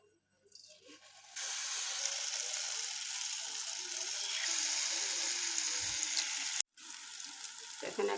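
Water lily flower chops sizzling in hot oil, a steady bright frying hiss that starts abruptly after a quiet moment and runs on, briefly cut out near the end before resuming.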